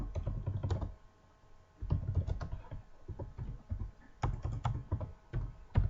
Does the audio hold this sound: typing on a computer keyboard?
yes